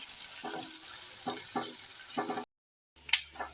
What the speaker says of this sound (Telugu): తర్వాత కొన్ని ఉల్లిపాయలు, పచ్చిమిరపకాయలు కొంచెం వేగిందాక